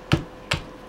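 Two sharp, close mechanical clicks about half a second apart as a gun's trigger part snaps into place during reassembly, alone in a quiet room.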